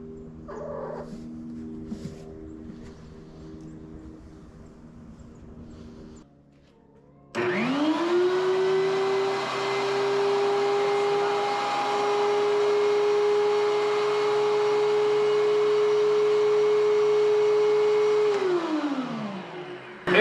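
A DEWALT thickness planer starts up and runs at a steady, loud, close whine for about thirteen seconds during a test. It then spins down, after a quieter, uneven stretch of other noise.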